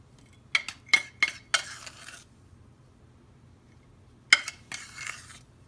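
Bath bomb mixture is stirred in bowls, giving a few quick scraping, clinking strokes of a utensil against the bowl in two short bursts separated by silence, fairly close and quiet.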